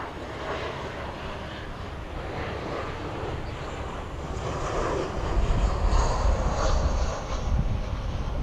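Boeing Dreamliner jet engines at DFW Airport at night, a steady broad roar that holds through the stretch and swells louder in the second half, with no talk.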